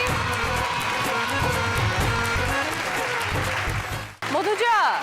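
Applause from a studio audience on a Bengali television game show rises around a contestant, steady and dense at close range, then cuts off sharply near the end before a brief rush of sound returns.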